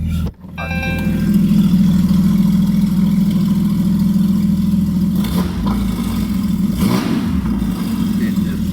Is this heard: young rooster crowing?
no